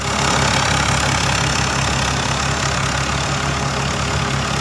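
Engine of a Kubota rice harvester running steadily at close range, a loud continuous rumbling drone with a slight knocking texture throughout, no voices.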